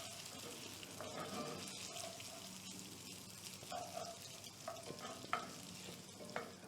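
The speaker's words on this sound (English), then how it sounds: "And now you want to fry this, and you want to keep stirring because you don't want them to burn." Rice fries in a hot pot for Mexican rice while a spoon keeps stirring it. Soft, continuous sizzling mixes with repeated scraping and clinking from the spoon, close but fairly quiet.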